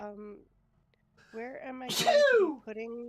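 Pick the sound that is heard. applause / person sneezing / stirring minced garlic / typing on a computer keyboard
person sneezing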